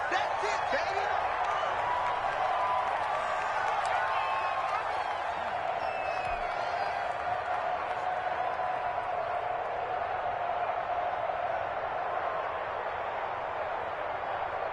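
A stadium crowd in a Madden NFL 21 football game between Las Vegas and the Titans keeps up a broad, sustained roar of cheering. It stays fairly loud and continuous throughout, with no clear voices standing out.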